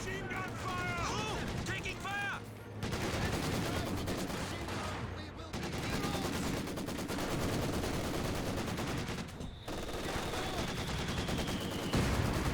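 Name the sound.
Maxim machine gun fire, video game Company of Heroes 2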